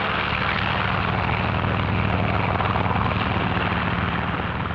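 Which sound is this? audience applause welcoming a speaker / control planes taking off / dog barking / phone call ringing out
control planes taking off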